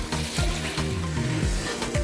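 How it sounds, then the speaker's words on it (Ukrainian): Onion and carrot sizzle and crackle steadily in a hot frying pan, with occasional stirring scrapes, close and continuous. "Коли цибуля зарум'явлена, на черзі морква. Морку потрібно смажити до напівготовності."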